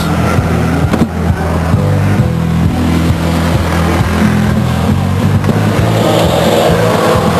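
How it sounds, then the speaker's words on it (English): Race car engines drone loudly and steadily through the whole stretch at Stockton 99 Speedway, a short-track oval, during a 1999 race, with the pitch shifting slightly as cars pass nearby; no talking is heard. "Here comes the Anderson Racing, Mike's Tire, Randy's Race Palace, number 5 car out of Stockton, Pete Anderson Jr."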